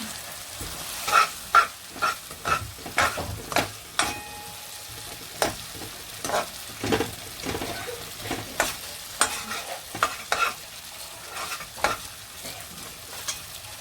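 Ginger frying in a masala in a kardahi for achari paneer, with a steady soft sizzle under repeated sharp scraping and stirring strokes of a spoon against the pan, close by and with no voices.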